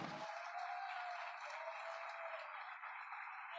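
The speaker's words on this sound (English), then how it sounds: "And I think Miss PG deserves a big, big, big round of applause." Audience applause fills a hall for a performer at a school program session, a steady dense clapping that holds at an even loudness throughout, with no talk over it.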